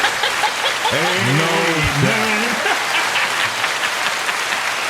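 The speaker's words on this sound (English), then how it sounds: "Can I get a hand clap over there?" Audience applause at a live discussion event: dense, continuous hand clapping fills the room while one voice briefly calls out over it near the start.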